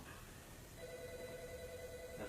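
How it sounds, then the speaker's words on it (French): A telephone rings faintly in a home in a French TV drama, a thin electronic ring starting partway through and holding over a low background, with no voices. "Ah, ça, c'est le téléphone."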